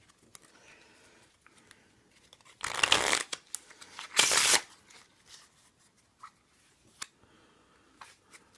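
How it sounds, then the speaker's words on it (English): A Bicycle Feudal deck of playing cards being shuffled, with two loud bursts of riffling and cascading cards close up, then scattered light taps and card handling in a quiet room. "That wasn't a very good shuffle."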